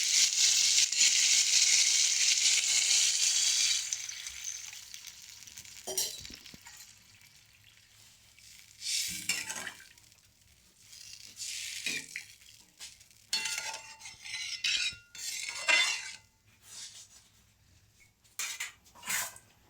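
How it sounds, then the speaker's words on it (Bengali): Water splashes into fried spice paste for a spinach and egg curry, raising a loud, dense hiss at first that then breaks into intermittent crackles and scraping stirs against the pan. "মশলাটা আমার কষানো হয়ে গেছে এবার আমি সামান্য জল দেব"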